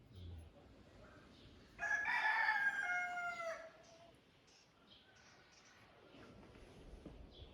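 A rooster crows once in a village near Gaziantep, Turkey, a long ringing call lasting a couple of seconds, followed by faint background sounds and fainter distant crowing.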